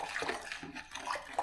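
Filtered water stirred in a container for apple cider vinegar gives a brief, close sloshing swirl that rises and falls in a couple of quick waves.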